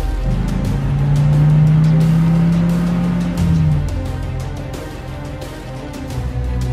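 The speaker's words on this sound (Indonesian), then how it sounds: "Masukkan ke mobil, kita bawa ke gunung belakang gedung ini. Cepat, jalankan mobilnya." A car in the Sakura School Simulator video game driving off, its loud steady engine drone rising in pitch and then easing away, alone and close.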